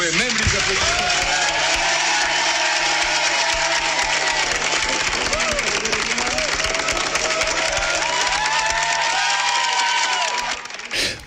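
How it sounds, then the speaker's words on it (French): Studio audience applauding and cheering on a broadcast talk show, continuous clapping and crowd noise with a voice talking loudly over it, fading out near the end. "Applaudissements pour Nico Saliagas."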